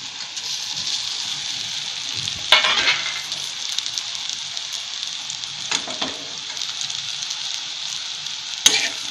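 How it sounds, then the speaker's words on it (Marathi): Cut pieces of alu vadi (colocasia leaf rolls) fry over medium heat with a steady, bright sizzle throughout, while a spatula stirs them and a few sharp knocks ring out against the pan. "मी हे 2 ते 3 मिनिट असं हलवून हलवून परतून घेते गॅस मध्यम ठेवून"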